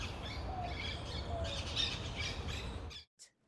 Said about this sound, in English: like our friend, the Puerto Rican parrot.